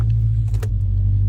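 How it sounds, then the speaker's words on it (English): A 2022 Dodge Charger Scatpack Widebody with its stock muffler idles in a steady low rumble close by, with a brief rev or start surge in the middle. "So yeah, what you just heard was the stock muffler."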